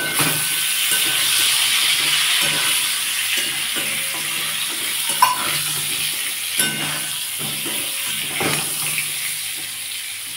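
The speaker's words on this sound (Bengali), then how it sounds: "সামান্য হলুদ আর সামান্য নুন দিয়ে পটলগুলোকে আমি ভালো করে ভেজে নেব" Pointed gourd pieces frying in oil with turmeric and salt, a continuous close sizzle punctuated by repeated light scrapes and clinks of a spatula stirring in the pan, with no speech.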